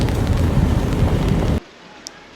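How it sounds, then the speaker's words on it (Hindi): Rain falls in thick fog near the India–Pakistan border at Teetwal, a dense, loud wash of hiss for about a second and a half before abruptly cutting to near quiet. "बारिश पड़ रही है"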